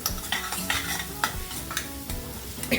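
Whole spices sautéing in hot oil for a sprouted matki curry, a steady close sizzle with a spoon stirring and scraping the pan throughout.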